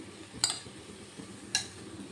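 Marinated chicken pieces being stirred into spices in a pan over a low gas flame, with two sharp metallic clinks of a utensil against the pan over a soft, quiet cooking background.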